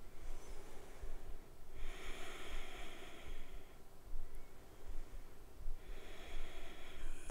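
Slow, audible breathing during a parent-child yoga session, a few long airy inhales and exhales close by over a faint steady background hiss.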